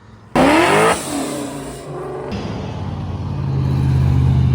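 A race car launches hard at a drag racing event during drag week, its engine bursting to a loud, close roar that fades briefly, then settles into a steady revving drone with no talk over it.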